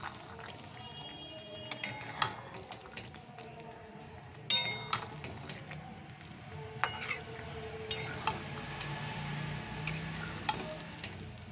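Paneer being stirred into palak in a pan, with soft scraping and a sizzle broken by sharp clinks of a spoon against the metal pan at irregular intervals, close and quiet, no talking.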